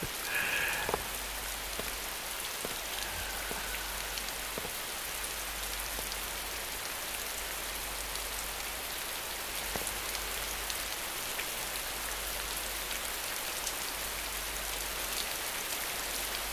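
Continuous rain falls in a dense, even hiss with scattered drops striking a surface, steady and unbroken throughout, in a Chinese period drama setting.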